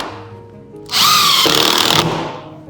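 A power drill drives a 1.5-inch screw into the bottom corner nailing flange of a Loewen double hung window: a loud, close whirring burst of about a second with a pitch drop as the screw seats, then fading.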